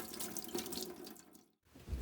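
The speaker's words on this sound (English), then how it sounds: "we have this little tap which comes straight from the marina water and with a little foot pump" Water running from a small foot-pump tap fed by marina water aboard a sailboat, a steady splashing stream that briefly stops and then resumes.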